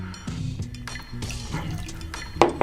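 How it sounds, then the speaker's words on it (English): Water trickles and splashes into a glass of Calumet Farm 15-year bourbon, a short pour with a few soft glassy clinks, heard close and alone. "I like to throw a little bit of water in here, just to see how it changes"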